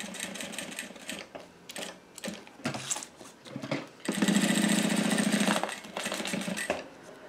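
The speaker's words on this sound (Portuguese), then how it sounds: "Tô costurando com o calcador normal agora" Sewing machine with a normal presser foot stitching piping on a transparent vanity case with cotton handles: short bursts of rapid mechanical clatter broken by pauses, then a longer continuous run of stitching, close and moderately loud.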